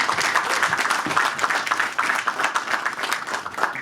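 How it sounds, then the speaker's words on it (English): Applause from a live audience at a casting conversation event, a steady dense patter of many hands clapping throughout with no talk. "The first clap has come from an aspiring actor, I'm sure"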